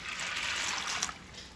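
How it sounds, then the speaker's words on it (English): Water pours over dry pinto beans in a container for soaking, a continuous bright trickling stream that is moderately loud and close, with a slight splash near the end. "all I need to do now is just pour some water in there."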